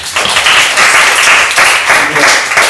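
Loud, close crowd applause at a panel discussion fills the whole moment, a steady wash of many hands clapping at once.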